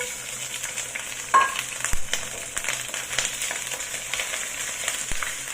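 Garlic, shallot and scallion frying in a hot kawali, with a continuous close sizzle broken by a few sharp clinks and scrapes of a utensil against the pan, no speech.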